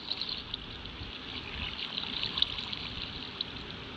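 Minecraft water flows in a steady, even trickle, close and continuous. A bright hiss runs through it with no speech.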